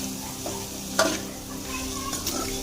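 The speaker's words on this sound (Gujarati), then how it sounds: "પનીરના ટુકડા નાખ્યા બાદ થોડી વાર તમારે આવી રીતે હલાવવાનું રહેશે" Paneer pieces fry in hot oil with a steady low sizzle while a spoon stirs them, scraping and clinking against the pan a few times.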